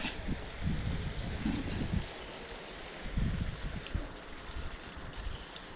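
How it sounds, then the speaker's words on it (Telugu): Cold wind blows outdoors on a rainy, overcast day, a rumbling gusty roar that surges and fades in waves, loud up close and heard without any talking. "చలి గాలి"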